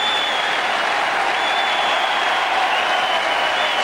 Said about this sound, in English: Standing ovation from the crowd at the MCG.